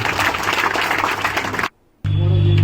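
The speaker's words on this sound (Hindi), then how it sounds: "डॉक्टर साहब के लिए तालियां होनी चाहिए।" Audience applause for a doctor at a charity event in Aligarh, a dense steady clapping that cuts off abruptly into near silence, then resumes loudly with a low hum underneath.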